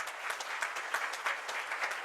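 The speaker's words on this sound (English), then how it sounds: "now you can applaud at any time because this is all good stuff" Audience applause at a board of education business meeting, a soft, steady patter of many hands clapping at a distance, heard alone without talk.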